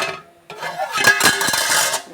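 Metal cookware clatters and clinks in a home kitchen as a pot lid is handled over a simmering fish curry, with several sharp knocks after a brief quiet start, close and fairly loud.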